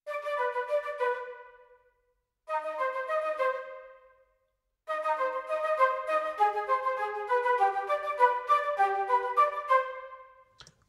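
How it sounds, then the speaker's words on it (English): A flute line programmed with orchestral samples in Logic Pro X, its upper octave played at lowered velocities, plays three legato phrases separated by short gaps, the last one longest and fullest, alone with no talking. "by itself, the flute line now sounds like this"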